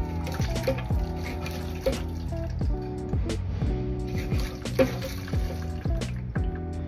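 Water runs steadily from a tap, a continuous close stream with a few soft knocks and squishy splashes mixed in.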